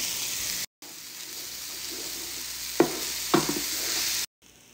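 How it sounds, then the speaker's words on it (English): Red onions fry in a hot pan with a steady hiss and crackle, punctuated by two short scraping stirs, and the sizzle cuts out briefly twice. "Now we're gonna add our onions. We have red onions."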